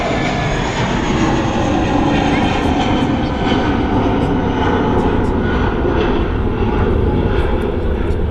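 An airliner departs Manchester Airport with a loud, sustained jet engine roar that stays strong throughout, while someone talks over it.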